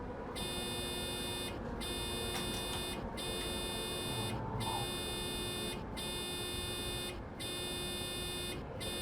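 A train cab alert in Train Sim World 5 on the Köln–Aachen route beeps in long repeated tones with short regular gaps, loud over a low cab rumble.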